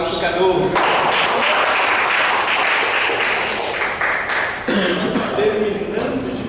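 A live audience applauds at a presentation evening, steady clapping sustained for most of the stretch, with crowd murmur and voices mixed in near the end.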